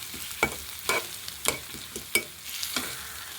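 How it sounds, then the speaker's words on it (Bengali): Spiced cow brain fries in a pan as a spatula stirs it, a low steady sizzle broken by about six sharp scraping strokes at uneven intervals, close and moderately loud. "এইভাবে ভালো করে নাড়াতে হবে, নাড়িয়ে তারপর এটা ভাজতে হবে"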